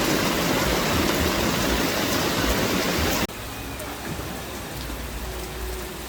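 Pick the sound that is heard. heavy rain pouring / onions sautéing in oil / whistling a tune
heavy rain pouring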